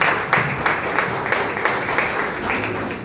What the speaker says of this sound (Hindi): यानी हमारे सारे अचीवर्स के लिए एक बार शानदार तालियां होना चाहिए